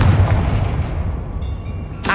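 A Confringo fire spell explodes in the video game Hogwarts Legacy, a loud, continuous booming blast with a heavy low rumble that stays dense throughout before a short burst at the end.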